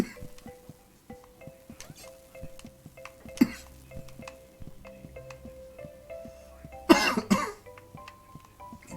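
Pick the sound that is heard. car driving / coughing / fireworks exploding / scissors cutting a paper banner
coughing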